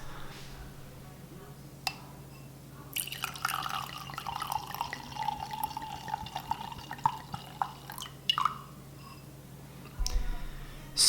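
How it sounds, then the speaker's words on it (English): A bottle of Velvet Devil 2011 Washington Merlot red wine is opened and poured into a glass, with scattered clinks and taps, then a steady gurgling trickle of liquid filling the glass, close and quiet indoors. "So I'm gonna pop this open and pour a glass."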